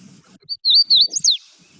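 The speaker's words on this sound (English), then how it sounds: "So that hooded warbler is still going." Hooded warbler singing a single clear, loud, close song of quick slurred whistled notes rising to an emphatic ending, with faint low background noise around it.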